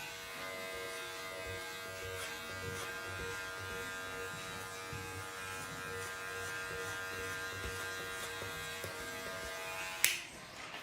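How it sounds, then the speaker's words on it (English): An electric hair clipper runs continuously at close range with a steady buzzing hum while cutting hair during a textured Eurohawk haircut, ending with a brief click near the end. "When I open my clipper, it's going to add a little bit more of a length"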